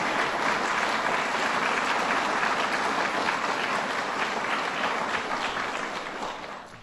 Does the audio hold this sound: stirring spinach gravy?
no